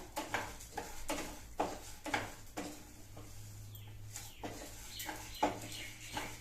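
Chana dal being dry-roasted in a pan for homemade idli podi: repeated sharp scraping and clinking strokes of a spatula stirring the lentils, close and fairly even in rhythm, with soft bird calls in the background.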